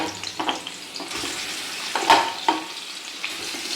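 Paneer pieces frying in a pan, a soft, low sizzle with a few sharper crackles and scrapes as pieces are turned, fairly quiet and close, with no talk.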